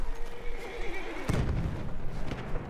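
A horse neighing in the World War I shooter game Battlefield 1, on a cold winter battlefield; one loud, close whinny with a falling pitch, over busy background battle noise and a heavy thump midway.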